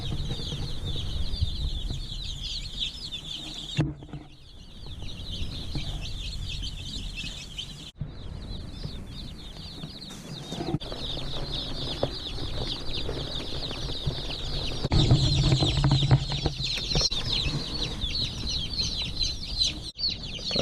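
Freedom Ranger chicks in a shipping box, dozens peeping continuously in a dense high chorus with occasional rustling and bumps, close and steady.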